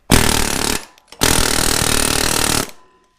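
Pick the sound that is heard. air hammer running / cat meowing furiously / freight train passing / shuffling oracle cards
air hammer running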